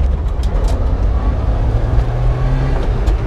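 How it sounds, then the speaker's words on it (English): Free mini truck with a manual gearbox driving on city streets, a loud, steady low engine rumble with road noise throughout, close and continuous. "We're just driving around right now."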